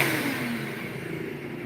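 A Bedini coil pulse motor with nine magnets and a 999.9-turn coil spins at speed, giving a steady, close whirring hum with a rising whine and no pauses for the whole short stretch.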